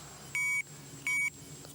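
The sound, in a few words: electronic fishing bite alarm beeping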